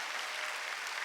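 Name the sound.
congregation applauding in a church service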